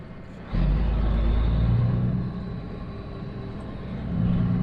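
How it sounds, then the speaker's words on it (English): Heavy truck engine rumbling nearby with a Jake brake, a deep low growl that swells, eases off, then builds again, with a brief hiss of air at the start. "how much you like the sound of the Jake brakes on these trucks and other engine noises"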